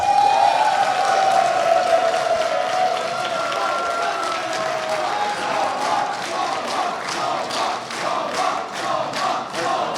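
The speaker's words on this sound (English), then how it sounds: "Can I get one more applause for our winner of Valhalla, Zomba" A large audience at a Super Smash Bros. Ultimate tournament grand final applauds and cheers, with sustained clapping and shouts that gradually thin into scattered claps.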